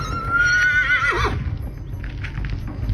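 A horse on a ranch lets out one loud, close whinny that rises and wavers before trailing off into low rumbling background noise.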